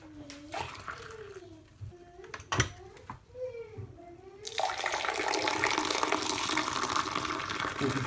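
Desert tea with sugar already added is poured to blend in the sugar. A voice speaks first, then a steady, close, fairly loud stream of liquid pours continuously for the last few seconds.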